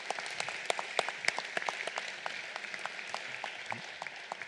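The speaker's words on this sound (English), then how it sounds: "Let's give them a round of applause." A luncheon audience applauds Eagle Scouts, a steady round of many hands clapping densely from a moderate distance, with a few sharper individual claps standing out.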